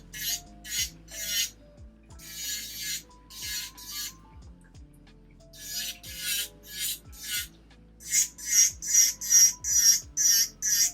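Short bursts of a high, buzzing rasp from a small electric nail drill at 22,000 RPM with a fine taper bit filing nails, starting and stopping in an uneven rhythm, close by and with no talking.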